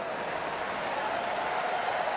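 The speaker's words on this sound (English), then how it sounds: "ball boy getting another nice round of applause from the fans here" Baseball fans at a Chicago White Sox at Minnesota Twins game applaud the ball boy with steady, even clapping from a distant crowd. No voices stand out.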